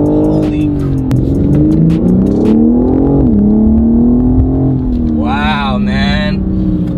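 A 2021 BMW M4 Competition pulls hard with a loud, rising engine note that climbs steadily through the run, its tone sweeping upward near the end, while excited voices talk over it from inside the cabin.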